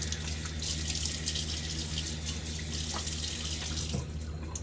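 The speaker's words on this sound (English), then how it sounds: "water on my face" Tap water runs steadily into a sink, a continuous close splashing hiss with faint drips while a face is wetted before shaving; hard, cool water.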